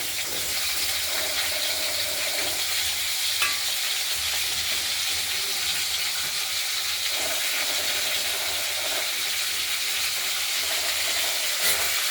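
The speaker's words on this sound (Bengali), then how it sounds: "এইবার ফোড়নটা ভাজা হয়ে যাচ্ছে, আলুগুলো ভাজা ভাজা করে নেব" Potatoes fry in hot oil tempered with cumin and nigella seeds, for a rohu fish curry. The sizzle is loud, steady and close, with faint stirring scrapes throughout.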